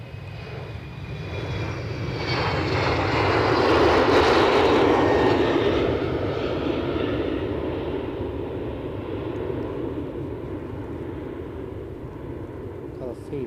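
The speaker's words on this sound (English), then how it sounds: "Was that not an Embraer 190?" Embraer 190 jet taking off at an airport, a broad engine roar that swells over several seconds and then slowly fades into the distance, with someone talking over it.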